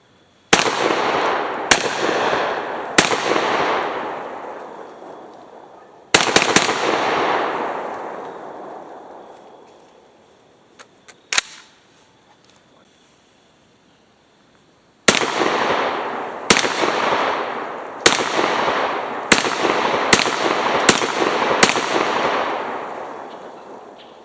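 Loud shotgun blasts from a Beretta A300 Ultima Patrol, fired in quick strings of three, then one isolated shot, then a rapid run of six to seven, each with a long ringing decay outdoors.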